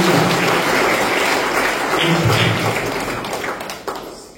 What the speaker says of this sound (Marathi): टाळ्या वाजवून द्या.